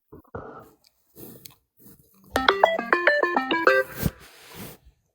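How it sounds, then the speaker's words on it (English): A mobile phone rings with a short, bright melodic ringtone, a rising and falling run of electronic notes lasting under two seconds, framed by scattered nearby chewing and rustling noises and no speech. "there goes your phone"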